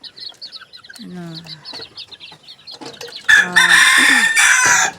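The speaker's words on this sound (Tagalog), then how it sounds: "papakain na naman po kami sa mga manok namin" Chickens cluck and a rooster crows up close at a backyard coop, with short clucks at first, then a loud, long crow in the second half.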